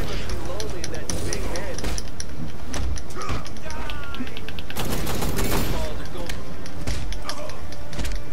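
Enemy gunfire in the video game Redhood rattles in loud, dense volleys with sharp impact cracks and a heavy burst midway, while a player talks over the shooting.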